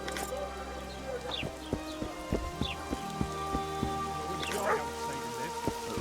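Rain in The Witcher 2 video game, a soft patter of drops over a layered game ambience with low droning tones, scattered sharper drips and clicks, and faint animal-like whimpers mixed in.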